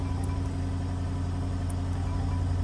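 A Jaguar F-Type P300 sits running in dynamic mode with its active exhaust open, giving a steady, close, low-pitched idle drone with a faint rhythmic pulse and no revving.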